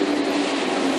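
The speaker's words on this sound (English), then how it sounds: "And here's our train, I think." A steady, loud rushing rumble of a train rolling past close by at a station platform, continuous and broadband with no voices.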